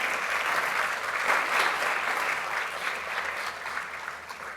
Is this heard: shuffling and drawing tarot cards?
no